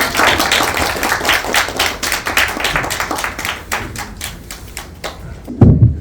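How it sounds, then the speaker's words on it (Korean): A film-screening audience at an audience Q&A event claps steadily for several seconds, a dense patter of many hands at moderate distance that fades out, followed by a thump at the end. "박수를 많이 주세요."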